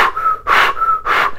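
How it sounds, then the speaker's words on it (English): Breath blown forcefully through stiff lips during a Kundalini yoga exercise, three rhythmic whistle-like rushes with a steady tonal hum between them, close and loud, no speech. "it may sound like a whistle, depends on how your breathing is"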